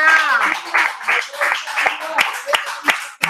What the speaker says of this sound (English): Give Yahuwah a hand clap of praise